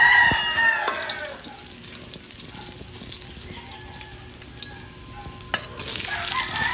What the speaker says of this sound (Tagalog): Ngayon mag-i-start na tayo mag-isa ng ating bawang.